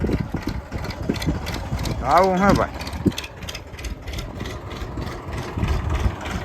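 A farm tractor's engine idles steadily with a low, rumbling drone throughout, close by in an open field, while someone talks over it.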